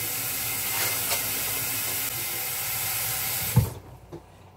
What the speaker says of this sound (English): I'm gonna rinse this off